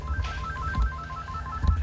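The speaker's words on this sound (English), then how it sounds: "See if you hear the phone ring." Telephone ringing inside a house, an electronic warbling ring tone repeating steadily and heard faintly from a distance, with low rumbles and thumps nearby and no talking.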